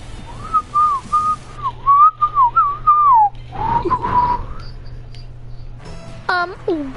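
A person whistles a wavering, sliding tune in long phrases, close and clear, with a voice speaking briefly afterward.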